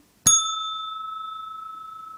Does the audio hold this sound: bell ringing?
yes